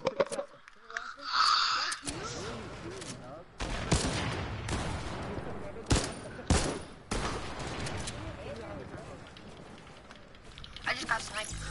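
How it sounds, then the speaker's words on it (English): Video game sniper fire cracks out as several loud, sharp shots amid the noisy clatter of a match, with a voice talking over much of it. "I just got sniped"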